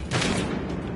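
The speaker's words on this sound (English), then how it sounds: "Who's shooting at me?" A short burst of loud gunfire from the Battlefield Hardline shooter, a dense crackle of shots with a booming onset and no talking over it.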